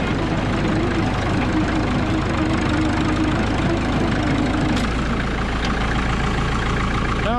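A Caterpillar D2 crawler bulldozer engine runs steadily at a low, throbbing idle with a rough mechanical clatter, loud and close, its pitch shifting slightly as the throttle is touched.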